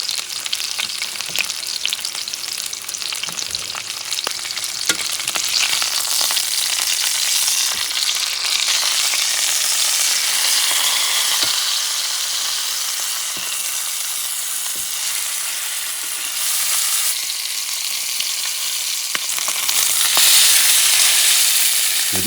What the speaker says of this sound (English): Put that rack, and you're going to cook each side,